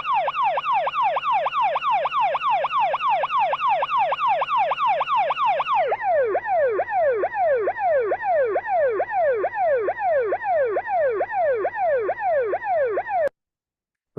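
An ambulance siren wails in a fast, steady up-and-down pattern, loud and continuous, then drops in pitch partway through as it passes by, before cutting off abruptly.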